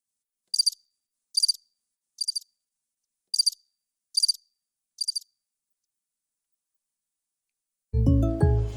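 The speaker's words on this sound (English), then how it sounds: "I'm going to give y'all some sounds of some crickets while I'm trying to find the video" Six short bursts of cricket chirping, evenly spaced and alone against silence, followed near the end by a loud, abrupt burst of other sound.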